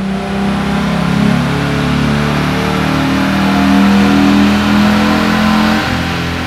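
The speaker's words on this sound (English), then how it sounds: "After installing the tune, we made another dyno run." A 1999-2004 Mustang with the 3.8 V6 engine, freshly tuned, roars steadily on a dyno run, holding a loud, sustained rev from start to finish with no talking.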